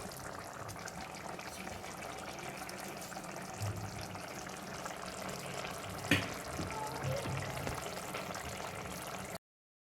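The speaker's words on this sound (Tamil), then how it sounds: "ஒரு 5 நிமிஷம் இது கொதிக்க விட்டால் போதும்." A steady low bubbling and simmering hiss of egg masala curry cooking in a pan, continuous and fairly quiet, with a brief clink partway through.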